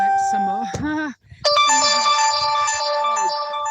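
A phone notification ringtone plays as a bright repeating electronic melody, loud and close, cut by a short gap and then resumed with sustained tones while a voice talks faintly beneath it.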